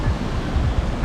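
Water rushes over a waterfall in Northland, New Zealand. The close roar is a steady, dense wash of noise with no voices, heard for only a moment.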